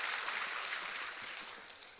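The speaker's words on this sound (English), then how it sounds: "Give them all a big round of applause as they come out." Audience at a pageant clapping for the contestants, a dense, sustained wash of applause that tapers slightly toward the end, with no talk over it.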